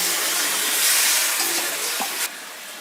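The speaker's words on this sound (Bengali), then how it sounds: "এখন আমি দিয়ে দেবো ঝোল।" Broth poured into a pan of frying potatoes and cauliflower for a vegetarian curry, giving a loud, close hiss of sizzling that surges briefly as liquid hits the hot oil, then dies down abruptly.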